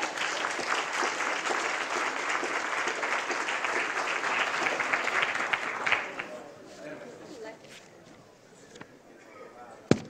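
Loud, sustained crowd applause fills a conference hall as a speaker takes the stage, then tapers off into scattered claps and quiet room noise.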